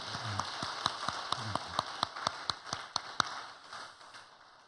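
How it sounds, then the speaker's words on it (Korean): A handful of distinct claps ring out in a church, roughly a dozen fairly regular strikes over a soft background, as a congregation applauds a departing member. "우리 큰 박수로 격려하도록 하겠습니다"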